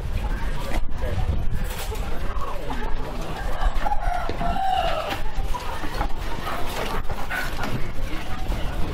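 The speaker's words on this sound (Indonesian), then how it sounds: "Mari kita lihat contoh-contoh ayamnya." KUB chickens clucking with an occasional crow in a farm coop, a busy continuous flock chatter close by, with someone talking over the birds.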